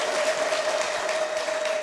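Congregation at River of Life Church applauding together, a steady dense wash of clapping filling the room with no talk over it.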